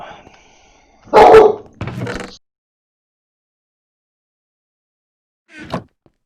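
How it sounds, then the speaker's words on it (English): A dog gives a couple of sharp, close barks in quick succession, then falls silent before one last short bark. "The dog suddenly decided to start barking."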